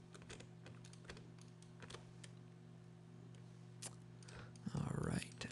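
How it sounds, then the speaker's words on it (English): Arrow keys on a computer keyboard pressed repeatedly, a series of faint, close clicks spaced irregularly over a steady low hum, with a brief louder rustle near the end. "You can also use the arrow keys on the keyboard to move the points around."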